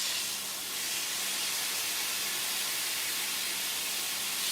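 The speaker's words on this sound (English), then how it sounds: "So that sizzle is a good thing." Chicken satay roasting in a convection oven at 500 degrees gives a steady, loud broadband sizzle and hiss, constant through the whole stretch with no talk.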